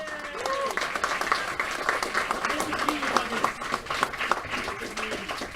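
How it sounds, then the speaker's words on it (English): A crowd applauds at the Mind Sports Olympiad Pentamind victory ceremony, steady clapping at middle distance mixed with overlapping voices and murmuring throughout. "Another round of applause for them."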